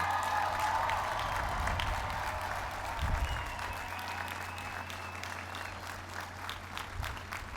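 A crowd applauds at the Plano East Senior High School 2021 graduation, a broad, fairly soft roll of clapping heard from some distance over a low hum, continuing steadily throughout.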